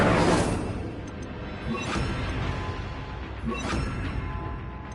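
Incendio fire spell cast in the video game Hogwarts Legacy: a loud whooshing burst of flame at the start, then two more rushing fiery swells, with a dense roaring texture throughout.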